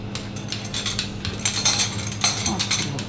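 Spoon scraping and pressing a vegan, gluten-free, sugar-free cheesecake mixture in a bowl, giving repeated light clinks and scrapes in irregular bursts, close and fairly clear.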